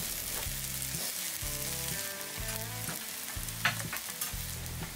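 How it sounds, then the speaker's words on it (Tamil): Steady loud sizzling as cooked rice is stirred into a frying pan for egg rice, with rhythmic scraping thumps as it is mixed. "வேக வச்ச சாதத்தை உள்ள சேர்த்துக்கோங்க."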